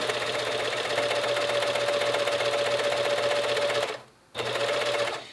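A sewing machine topstitching fabric, running slowly with a steady, even mechanical hum. It pauses briefly near the end, then starts stitching again.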